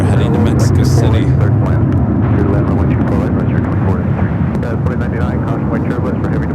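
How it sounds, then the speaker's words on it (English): A Southwest Boeing 737-700 jet departing LAX for Tucson roars loudly and steadily throughout, a broad continuous rumble with a muffled voice faintly underneath. "Southwest 737-700 will head to Tucson"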